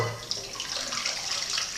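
Boiled potatoes and their cooking water tip out into a colander, a rushing, splashing pour that starts with a brief knock and stays steady and close for under two seconds, no talking.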